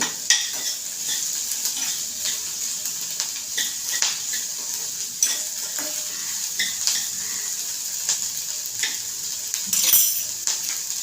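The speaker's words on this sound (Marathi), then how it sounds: "कांदा भाजून घ्यायचा आहे" Onions sautéing in a pan for a paneer curry, a close, steady sizzle with regular clinks and scrapes of a spoon stirring against the pan.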